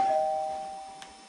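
A single electronic doorbell tone rings out clearly and then fades away, with nothing else heard.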